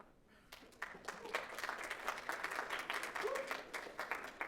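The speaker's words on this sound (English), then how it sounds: "That was not enough clapping" Modest audience applause after a speaker is introduced at a Kansas Institute for Peace and Conflict Resolution talk; scattered clapping starts faintly, builds over a few seconds and stays light and thin.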